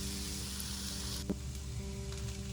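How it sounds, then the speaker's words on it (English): Zucchini sautéing in a skillet gives a steady, moderately loud sizzle and hiss throughout, with one brief clack of a utensil midway. "So we're just going to let this start to saute while we cut up the sausage."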